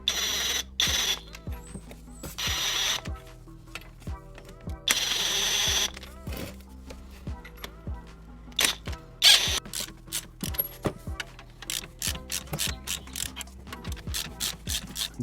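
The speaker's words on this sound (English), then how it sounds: "I'm gonna go slowly, tightening up those spring compressors a little bit, one by one, so the spring gets compressed evenly" Spring compressors are ratcheted tight on the front strut spring of a Honda Civic mk8. Crisp, evenly spaced ratchet clicks come in short bursts, with brief scraping and rubbing of metal in between, close and alone.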